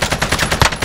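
Rapid automatic gunfire in a first-person shooter video game, a close, loud burst of evenly spaced shots over less than a second, with no talk.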